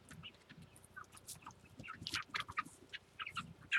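Backyard homestead chickens cluck and squawk in scattered bursts, close by, some calls louder and sharper toward the end, with no talking.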